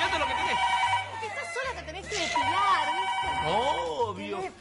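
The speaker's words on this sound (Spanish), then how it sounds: "Teléfono." A telephone bell rings in repeated bursts on a talk show set, loud and near, with people talking over and between the rings.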